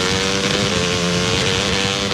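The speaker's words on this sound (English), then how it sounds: "You wouldn't ride your dirt bike blindfolded." A dirt bike engine revs loudly and steadily in a radio advert, a continuous buzzing motor drone that fills the whole short stretch with no voices over it.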